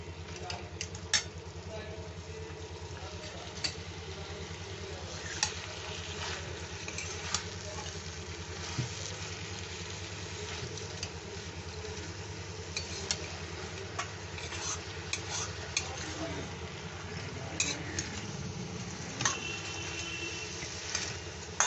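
Chopped banana flower and prawns sizzle steadily in a pan as they are stirred, a soft, continuous frying hiss with light scraping clicks, heard fairly quietly at a moderate distance.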